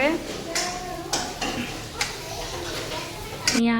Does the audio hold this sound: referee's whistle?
no